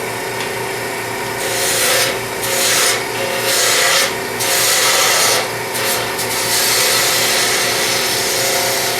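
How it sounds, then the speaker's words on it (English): A wood lathe turns a plywood blank as the cutting tool peels off shavings, giving a continuous, close rasping scrape that pulses in short bursts over a steady motor hum. "I'm going to be getting shavings now instead of the big chunks of wood flying off"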